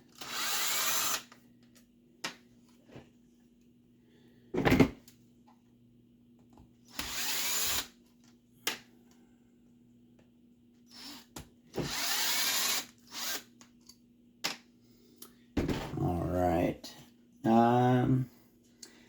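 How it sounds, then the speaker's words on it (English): A power drill backs screws out of the transmission of an HPI Savage nitro RC truck. There are several short whirring bursts with quiet gaps between them, and someone talks briefly near the end. "we know we're going to be needing to remove all of the screws that go into the tranny"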